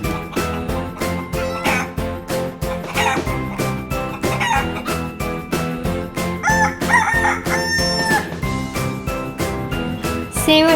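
A farm chicken crows and clucks repeatedly, sharp loud calls rising above a steady rhythmic music bed, with tinkling accents near the end.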